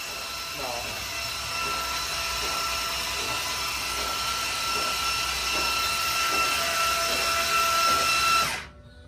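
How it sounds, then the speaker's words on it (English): A 500ci Mopar engine is cranked over slowly by its starter, a steady whirring drone with faint rhythmic pulses that runs for several seconds and then cuts off abruptly. "It doesn't, it's not cranking very fast"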